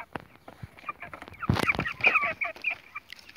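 Mixed-breed chickens, large birds about eight weeks old, cluck and squawk at close range in a burst of overlapping calls with scattered rustling, loudest in the middle of the stretch.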